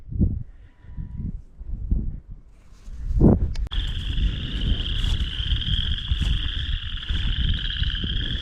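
A steady chorus of frogs trilling and croaking in the distance on a hike in Elk Grove, Iowa, starting after a few soft rustles and thumps, continuing without pause.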